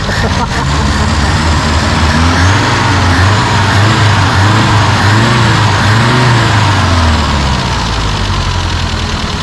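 A loud engine runs close by and revs repeatedly, rising and falling in a series of swells over a steady rumble, with some talking mixed in.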